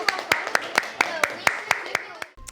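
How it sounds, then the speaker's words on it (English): A small group of students in a school classroom gives a short round of clapping for debate participants. The claps are distinct, sharp and fairly evenly spaced, about nine in a row, and stop abruptly with a faint voice after. "Give them a clap."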